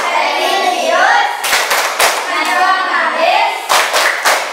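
A group, apparently schoolchildren in a classroom, performs the Tepuk PPK rhythmic clap routine, chanting together between sharp bursts of loud, synchronized hand claps in a quick pattern.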